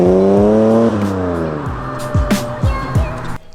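A Ford AU Falcon fitted with Pacemaker 4480 extractors revs and accelerates nearby, its exhaust rising in pitch through several gear changes before cutting off abruptly.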